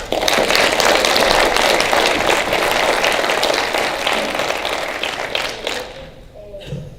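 An audience applauds to welcome a guest, vice-chair of National NORML, a dense, loud wash of clapping that holds steady for about six seconds before thinning out, with a voice starting to speak at the end.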